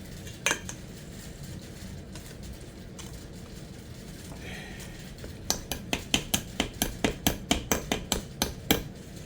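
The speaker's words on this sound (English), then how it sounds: "Now we're gonna stir this up real good" Cake batter made without eggs is stirred in a bowl, giving faint scattered clinks at first, then a fast, regular run of sharp utensil taps against the bowl.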